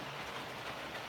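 A short stretch of a model train rumbling along its track with a steady, even clatter, no voices.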